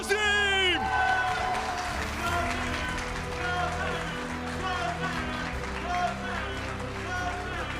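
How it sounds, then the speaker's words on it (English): Dense, loud applause and cheering from a large crowd as a grand champion is announced at the Pokémon Dortmund Regional Championships, continuous and roaring throughout, with shouts rising above the clapping. "Give a big round of applause for your grand champion."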